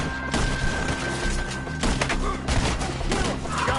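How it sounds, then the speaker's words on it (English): Rapid gunfire from a PS4 video game, with bursts of shots aimed at enemies up in the trees, loud and dense throughout with crashing impacts mixed in. "Shoot the ones up there first!"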